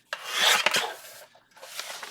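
Paper scraps being cut on a trimmer for a handmade journal, giving a close, dry rasping slide that runs for about a second, pauses, then a second softer rasping stroke follows.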